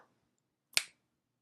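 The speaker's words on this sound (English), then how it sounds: "I'm going to snap my fingers" A single sharp finger snap rings out close and clear after a moment of near silence, with a quick crisp attack and brief tail, no voices around it.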